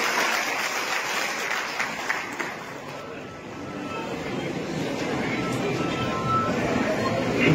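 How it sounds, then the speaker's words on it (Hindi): An audience at a Madhya Pradesh government event applauds to welcome Chief Minister Dr Mohan Yadav: a steady, dense wash of clapping that holds for the whole stretch without a break. "इस अवसर पर जोरदार तालियों के साथ मुख्यमंत्री जी का स्वागत करें।"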